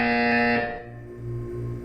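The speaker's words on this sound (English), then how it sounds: "You will hear a buzzer." A harsh, loud electronic buzzer sounds in the Portal video game, a dense tone that cuts off after about half a second, followed by a lower pulsing hum.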